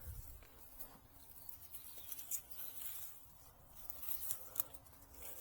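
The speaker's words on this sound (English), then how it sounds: "Hear that bee?" A bee buzzes faintly around an Indian blood peach tree in a home garden, a soft, uneven insect hum drifting close and away against quiet outdoor background noise.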